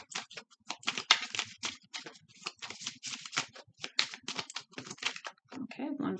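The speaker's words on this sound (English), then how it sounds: "I can't even shuffle this deck" A deck of cards is shuffled in a dense run of quick, crisp riffling clicks and flutters, close and continuous, with a short rustle at the end.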